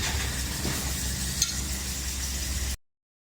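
Chili and seasonings stir-fried in hot pork lard in a wok, a loud steady sizzle with faint scraping of stirring, running close and unbroken before cutting off abruptly.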